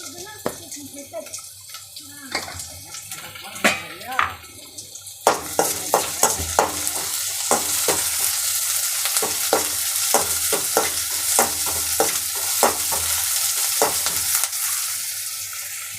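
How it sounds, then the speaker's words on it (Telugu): Onions fry in a pan with a pinch of salt for bottle gourd fry, a low hiss turning into a loud sizzle as the heat rises, with repeated scraping stir strokes close by. "స్టవ్ని అడ్జస్ట్ చేసుకుంటూ తగ్గించుకుంటూ గోల్డెన్ కలర్ వచ్చినంత వరకు ఫ్రై చేసుకోవాలి"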